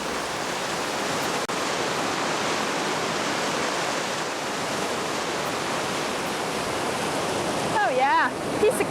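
Rushing river water pours beneath a log bridge on a trail in Nepal, a loud, steady broadband roar filling the scene, with a brief burst of nearby voices near the end.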